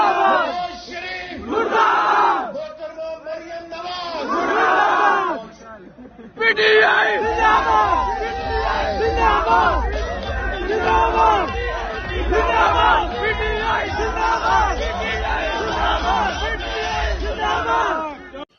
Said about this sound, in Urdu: احسن اقبال کے جلسے میں گزشتہ رات تحریک انصاف کے حق میں اور نون لیگ کے خلاف نعرے بازی ہو گئی